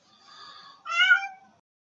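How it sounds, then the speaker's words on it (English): A pet cat gives two meows indoors, a softer drawn-out call followed by a louder, brighter one, close to the microphone with no talking. "As you can hear, my cat is now telling me that she wants some fuss."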